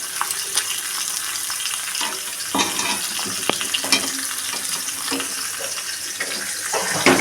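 Pieces of rohu fish, head included, fry in oil in a wok, giving a constant close crackling hiss with small spits and pops and no talking.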